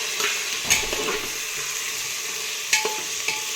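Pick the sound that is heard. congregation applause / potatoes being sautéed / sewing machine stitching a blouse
potatoes being sautéed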